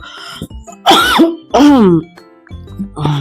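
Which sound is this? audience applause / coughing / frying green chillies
coughing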